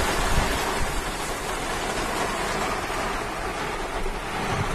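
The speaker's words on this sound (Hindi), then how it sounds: "हिमाचल की बारिश शुरू हो गई है और बाहर इतनी ज़ोर बारिश हो रही है" Heavy monsoon rain pours down outside in Himachal, a dense, continuous rushing hiss with a low rumble underneath, steady and fairly loud with no talking.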